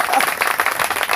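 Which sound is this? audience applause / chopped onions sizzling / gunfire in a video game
audience applause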